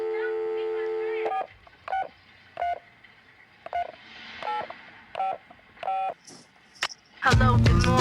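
Telephone keypad tones beep in a quick irregular series of separate dial presses on a hip-hop track, after a short held tone, ending with a loud burst of other sound.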